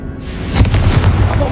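Hogwarts Legacy's Confringo spell goes off as a loud, booming fiery blast that fills the short moment with dense crackling rumble.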